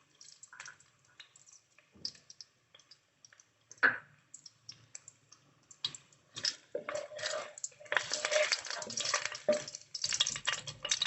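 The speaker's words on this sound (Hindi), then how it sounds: "बस 10 सेकंड हम जो है लहसुन को सौते करेंगे" Garlic hitting hot oil in a pan for chicken fried rice, starting as sparse clicks and pops and building into denser crackling sizzle, close and moderately quiet.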